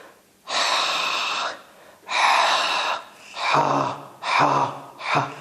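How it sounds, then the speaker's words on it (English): A person demonstrates a deeply exhaled H sound, producing five breathy, voiceless pushes of air, each about a second long with brief pauses between them, close to the microphone and with no other talk. "So it comes out with deep exhaling. So exhaling H, exhaled H, like deeply exhaled H"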